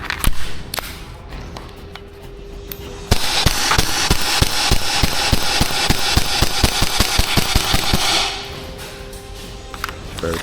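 Rapid rhythmic snaps of an airsoft gun firing, a long steady run of shots over several seconds after a few scattered single pops, with a mechanical hum beneath.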